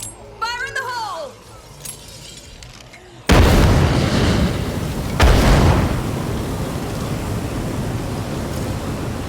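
An explosion in the video game State of Decay 2 erupts as a loud, sudden boom, then a second blast follows and a long roaring rumble carries on. A voice shouts briefly just before the first blast.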